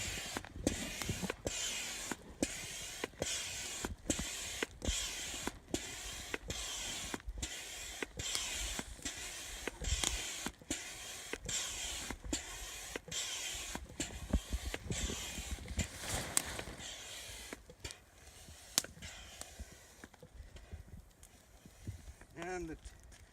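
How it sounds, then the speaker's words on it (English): A hand pump inflates an Atmospheric 2 air frame shelter, pumping on both up and down strokes in a fast, even rhythm of creaky mechanical strokes that carries on for about fifteen seconds and then stops, with some talk at times. "The pump pumps in both up and down strokes,"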